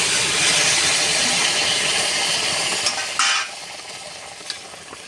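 Boiled potatoes and cauliflower tumble into a pan of frying fish curry with a loud, close hiss and sizzle that drops off sharply near the end, leaving quieter sizzling and a couple of faint clinks.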